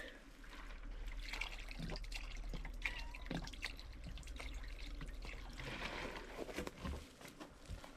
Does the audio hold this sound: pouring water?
yes